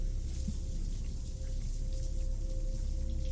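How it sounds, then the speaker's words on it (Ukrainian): Cold shower water runs steadily from overhead inside a horror video game, a continuous dense patter like rain falling through a ceiling, fairly close and even throughout with no voices. "Вода була холодною. Таке відчуття, наче це дощ прямо скрізь стелю на мене лється."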